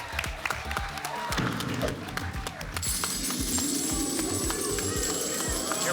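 A game show studio audience claps and cheers in a sustained roar for Cash Explosion, with rhythmic stamping or clapping beats and a voice talking over the crowd.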